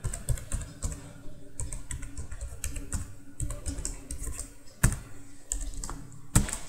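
Java code is typed on a computer keyboard in quick, uneven bursts of key clicks, close and clear, with occasional heavier thumps like the space or enter key and no talking.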